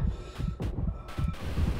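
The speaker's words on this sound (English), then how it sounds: "my heartbeat just started cranking" A heartbeat effect from the video game Dead Space 3 thumps in a steady, quick rhythm of low muffled beats, fairly loud and close, with no talking over it.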